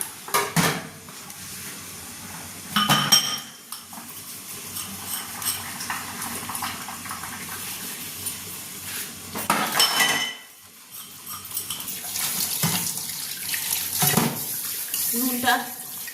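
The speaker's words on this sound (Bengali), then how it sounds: "চিকেনটা যতক্ষণ হচ্ছে আমি এখানে কিছু বাসন আছে সেগুলো ধুয়ে নেব।" Running tap water splashes over dishes, pots and cutlery at a home kitchen sink, with repeated clatters and clinks of metal utensils, close and continuous throughout.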